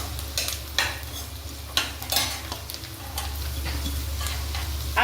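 Onions sautéing on a high flame in a pan for street-style Schezwan rice, a steady sizzle and frying hiss with a few stirring scrapes, close and continuous with no voices.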